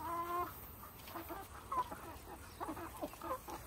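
Chickens clucking with a rooster's calls, soft and somewhat distant, scattered short clucks over a quiet background.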